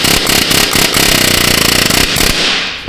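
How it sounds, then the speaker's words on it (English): Air hammer striking a front CV axle on a Ford EcoSport, loud close rapid bursts of pneumatic blows in several short stutters over about two and a half seconds, then a brief pause. "Let's get the air hammer, because why not?"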